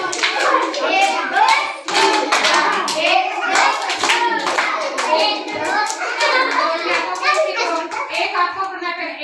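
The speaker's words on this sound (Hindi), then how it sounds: "ऐसे से आप ही आके ऐसे ताली मार लें" Hand clapping in a counted one-two-three rhythm during a group activity, sharp claps repeating steadily alongside children's voices and talk throughout.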